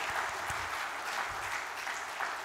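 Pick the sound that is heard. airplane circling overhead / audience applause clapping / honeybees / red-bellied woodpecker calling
audience applause clapping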